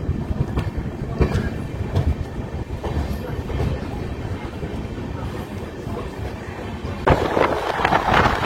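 An Amrit Bharat Express rumbles steadily toward Khana Junction, heard from on board, with continuous wheel noise and clattering rail joints that swell louder near the end.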